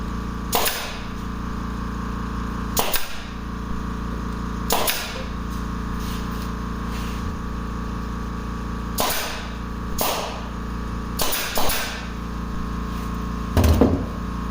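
A staple gun drives staples into a wooden tray, giving sharp loud snapping bangs, roughly ten shots spaced a second or two apart and some in quick pairs, over a steady background hum.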